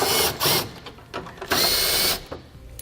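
A power drill spinning out screws with a T20 Torx bit while installing a Roadmaster Direct-Connect base plate on a 2017 vehicle, loud close whirring in several short bursts separated by brief pauses.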